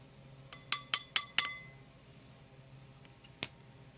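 Half a teaspoon of Recollections champagne-colored caviar beads is spooned into a container, giving four quick, bright clinks in a row and one lone tick a moment later. The sounds are small and close against a quiet background, with no one talking.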